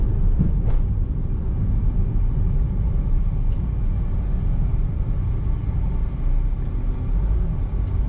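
A 2012 Perodua Myvi 1.5 SE automatic car on the move, heard as a steady, close, low engine and road rumble that carries on without a break for the whole stretch.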